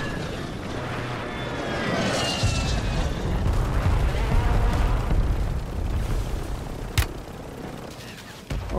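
A helicopter in the Call of Duty: Warzone video game gives a loud, steady rotor and engine roar that swells and fades slightly. A sharp crack cuts through it near the end, with no talking.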